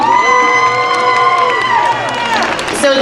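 A festival crowd cheers and whoops for visiting guests at a cherry blossom festival, a loud, sustained mass of voices with shrill shouts rising throughout, clapping blended in.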